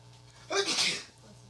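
One sharp, close sneeze bursts out from a man on a podcast panel, loud and brief against a quiet room.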